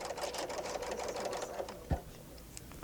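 A Bernina L890 serger stitches in a fast, steady mechanical chatter of rapid needle strokes, close and fairly quiet, with one soft thump near the end and faint talk.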